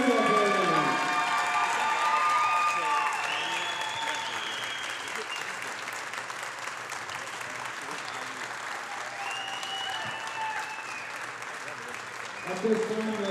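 A gym crowd at a high school volleyball match gives sustained applause with scattered cheers for the senior players, steady and loud throughout, swelling briefly near the end.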